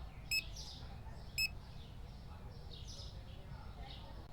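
Two short, high electronic beeps about a second apart sound when a button is pressed, standing out clearly over a steady background hum.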